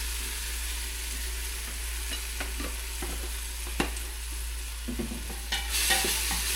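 Onions cooked until translucent fry with added garlic in a pan, sizzling steadily while a spoon stirs and scrapes. A few sharp knocks cut through, and there is a low steady hum underneath.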